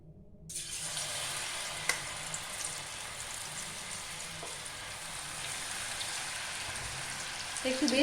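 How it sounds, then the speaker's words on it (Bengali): Malpua pithe batter dropped into hot oil in a wok sets off a loud, steady sizzle that fills the whole stretch, with a few faint clinks and a brief voice near the end. "কড়াইটা গরম হয়ে গেছে। এবার আমি আমার একটা করে পিঠে এর মধ্যে দেব।"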